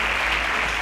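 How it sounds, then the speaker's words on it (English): Audience applause at a televised quiz competition show, a dense steady wash of clapping from a crowd lasting under a second. "A round of applause for Chimdubem."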